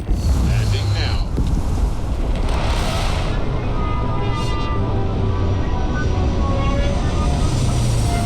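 A spaceship landing in the video game Starfield gives a loud, continuous roaring rumble with wind-like rushing and shifting tones, heard close and steady throughout.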